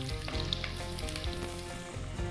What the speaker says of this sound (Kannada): ಈರುಳ್ಳಿ ಚೆನ್ನಾಗಿ ಬಾಡಿಸ್ಕೊಳ್ಳೋಣ.